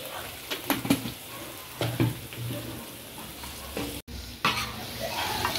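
Mutton chops being stirred with kasuri methi on a hot tawa, a soft sizzle broken by repeated scraping strokes of the spatula at an uneven pace, close and fairly quiet.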